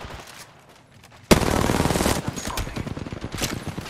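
Automatic weapon fire in Apex Legends erupts suddenly after a quiet stretch, a loud sustained burst of rapid shots followed by continuing bursts of gunfire close by.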